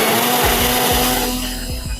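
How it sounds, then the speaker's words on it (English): Kitchen blender whirring egg bite ingredients into a creamy mix, a close steady motor drone with a few dull thumps from the jar and a slight drop in pitch toward the end. "We are going to blend that all together and get it nice and creamy."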